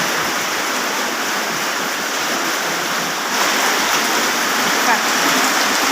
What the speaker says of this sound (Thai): ฝนตกอากาศดี ฝนไม่หนักนะคะ